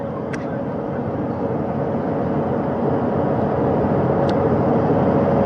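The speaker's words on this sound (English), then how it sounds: "That helicopter will now hover just a distance away" Helicopter hovering at a distance during the Artemis II crew recovery at sea, a steady, dense rotor and engine roar that holds evenly throughout with faint background talk.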